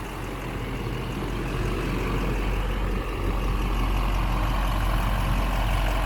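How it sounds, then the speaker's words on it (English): A 2006 Chevy Silverado 2500 pickup with a stock LBZ diesel engine idles in a steady, loud, close-up drone with a constant low rumble and no change in pace. "Truck runs smooth, super clean."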